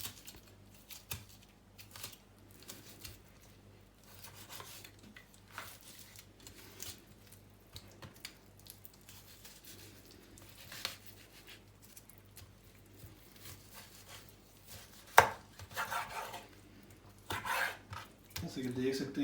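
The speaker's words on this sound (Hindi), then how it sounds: "ये सीने के गोश्त को जो है हम अलग कर लेंगे।" A knife cuts chicken breast meat away from the bone, giving soft, irregular scraping and slicing sounds with occasional light clicks, close but quiet and spread over a long stretch.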